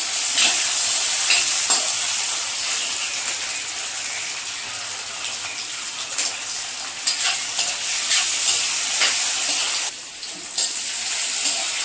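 Ginger, garlic and ustikaya fry in a pan for a pickle, giving a loud, continuous sizzle with occasional stirring scrapes and crackles throughout.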